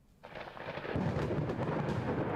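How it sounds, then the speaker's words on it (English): Heavy thunder rolls in after a quiet start, building into a loud, sustained rumble with steady rain hiss throughout a video game storm scene. "Oh, it started raining. Wow, it's really storming out there."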